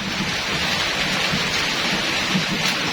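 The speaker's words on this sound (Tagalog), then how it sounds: "lakas na kulog" Heavy rain pours down steadily during a thunderstorm in the Philippines, a dense continuous roar with a low rumble of thunder underneath, loud and unbroken throughout.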